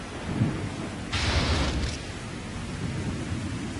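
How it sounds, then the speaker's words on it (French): An animated thunderstorm in Pokemon Origins: a nearby lightning strike bursts as a loud, sharp crack and roar of thunder over a steady wash of rain, then fades back into the rain. "L'orage? Oui, tu as vu ça, la foudre n'est pas tombée loin."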